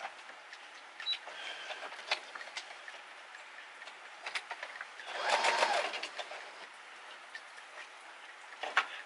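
A domestic sewing machine stitches quietly in a home room, giving faint irregular ticking and short whirring bursts, with one longer run of stitching near the middle.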